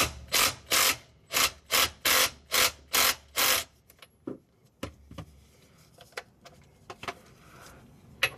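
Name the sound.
removing a car differential drain bolt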